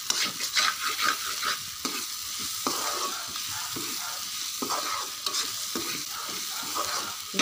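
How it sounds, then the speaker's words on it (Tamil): Squash sautéing in a pan, with a steady loud sizzle of frying and repeated scraping of a spoon stirring the pieces throughout. "ஸோ நம்ம வந்து நல்லா வதக்கி விட்டுனே இருக்கணும்."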